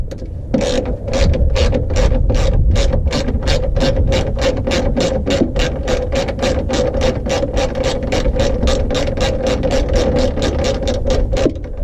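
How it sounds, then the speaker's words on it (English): A socket wrench ratchets rapidly and rhythmically, loosening headlight bolts on a 2002–2005 Saturn Vue; dozens of loud, evenly spaced clicks come close-up with no talk. "Let's put our socket wrench to loosen."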